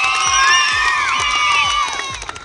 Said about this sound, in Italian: un applauso di nuovo per Elini